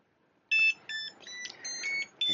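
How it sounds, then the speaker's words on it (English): A 3D printer gives a short run of electronic ready beeps, several bright tones in quick succession with brief gaps, clear and close in a quiet room. "It beeps to tell me it's ready"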